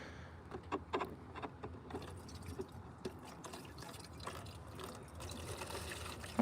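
Old, muddy coolant draining from the cooling system of an old Ford during a thermostat change, a faint, steady trickle with scattered drips and splashes, heard alone at low level.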